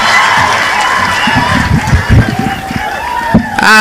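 A crowd cheers and claps to welcome a governor at an outdoor public event in Homa Bay, Kenya, with a noisy mix of voices and a speaker talking over the commotion.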